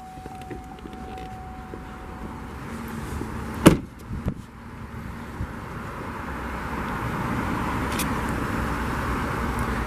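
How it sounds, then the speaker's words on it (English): A 2010 Chevrolet Tahoe LS hood release gives a sharp single pop followed by a softer clunk, set against a faint outdoor hum and distant traffic-like rumble. "pop the hood right here"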